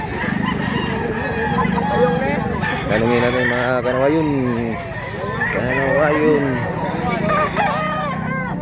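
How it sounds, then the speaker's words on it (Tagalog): Roosters at a chicken market in Mantalungon, Cebu crow loudly and repeatedly, several calls overlapping close by, while someone speaks over the background clucking and noise. "Daming manok mga idol."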